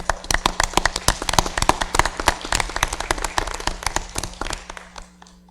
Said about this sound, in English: Well, I think they deserve an applause.